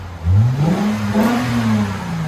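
Lexus IS 250 2.5L exhaust with the silencers removed, a single close rev that climbs in pitch, holds, then eases off over about two seconds, loud and raspy with no talk.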